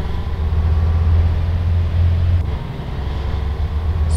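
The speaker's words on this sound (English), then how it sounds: "Good sound from the engine." Steady low engine drone from a vehicle in the Arma 3 video game, running continuously at moderate loudness with a brief dip near the middle.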